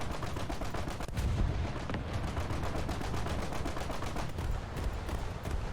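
German 88 mm guns and other naval weapons fire from a small boat in War Thunder, a dense barrage of loud, rapid booms and cracks that overlap continuously without pause.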